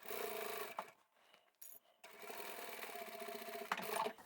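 A sewing machine runs in steady stitching bursts while a boxy fabric bag is stitched together, pausing briefly midway before whirring on again, close and alone.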